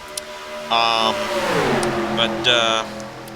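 Stock cars racing on an oval, engines roaring past nearby in bursts that swell and fade as each car goes by, under steady commentary.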